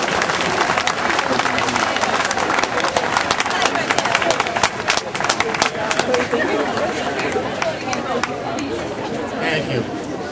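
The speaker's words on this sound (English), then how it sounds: "we all owe each other a round of applause and a thank you for being here" A rally crowd breaks into sustained applause and cheering, dense clapping and shouts filling the space with murmured voices mixed in, tapering slightly toward the end.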